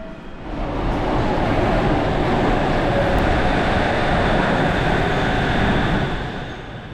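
A suspended monorail train runs along its overhead track, a steady broadband rumble and rolling roar that swells in over the first second, holds loud and even, then eases slightly at the end, with no voices.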